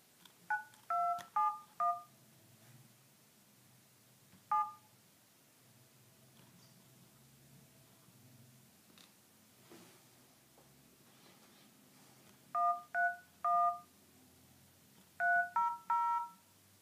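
DTMF keypad tones from an iPhone 5 dialing a phone call: several short bursts of beeps in quick clusters, a lone tone, then two more fast groups, clear and moderately quiet over a faint hiss.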